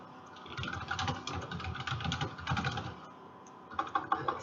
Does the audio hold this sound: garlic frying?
no